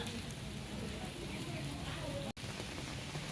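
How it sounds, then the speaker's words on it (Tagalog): Light rain falling at Manila Memorial Park cemetery on November 1, a faint, steady patter and hiss continuing throughout with a brief dropout near the end. "Medyo maulan-ulan dito."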